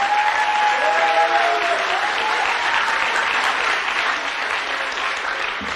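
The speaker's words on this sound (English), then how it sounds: "Let's have one more round of applause for the students in 5B." Audience applause for graduating secondary students at a school graduation, a full, sustained roll of clapping from a large crowd, with a faint thread of music early on, easing slightly in level over several seconds.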